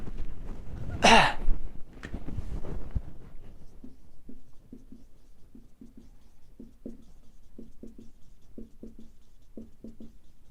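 Chalk or marker scrapes across a board during a chemistry lesson on IUPAC naming, one loud stroke near the start followed by short, quiet tapping and scratching strokes in a light, uneven rhythm.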